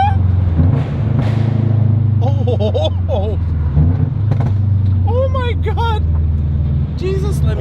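A Toyota GR86 fitted with PLM UEL headers sends out a loud, steady low engine rumble with brief rises in revs. Excited voices talk over it close by throughout.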